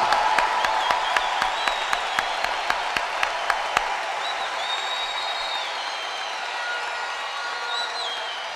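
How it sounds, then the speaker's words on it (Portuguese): Church congregation applauding at a Sunday service, a burst of sharp, close claps for about four seconds that stops abruptly, leaving the room's murmur and faint voices. "Então para todos nós aplaudiremos com muita alegria."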